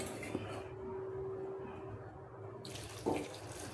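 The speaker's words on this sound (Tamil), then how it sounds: "சுடு தண்ணி ஊற்றிக்கலாம்." Hot water is poured over small cut cauliflower pieces in a cooking vessel, a close, steady splashing stream that pauses briefly and then resumes near the end.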